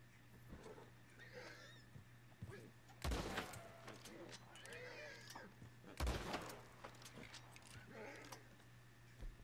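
Two loud rifle shots ring out a few seconds apart in Red Dead Redemption 2, with nervous draft horses, a Shire and an Ardennes, snorting and whinnying quietly around them.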